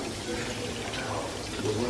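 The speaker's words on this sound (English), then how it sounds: "And she also added 1 cup of water." A cup of water pours steadily into a pot of birria for a couple of seconds, a close, continuous splashing rush.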